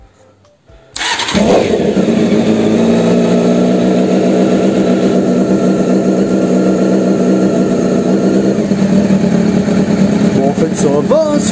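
A Honda CBR sportbike engine cranks and fires about a second in, then settles into a loud, steady idle close by that runs unbroken to the end with a faint rough pulse.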